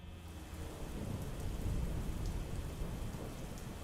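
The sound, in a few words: rain sounds with thunder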